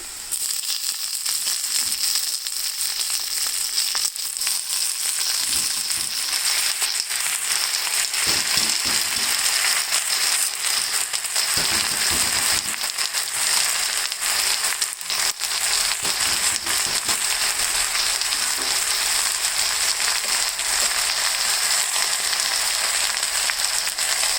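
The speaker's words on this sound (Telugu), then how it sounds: "ఉల్లిపాయ ముక్కలు ఇలా వేగినాక తోటకూర వేసుకోవాలి." Onion pieces and amaranth leaves frying in a pan for a thota curry with dry red chillies give off a loud, steady hissing sizzle with scattered crackles, close by and with no talking.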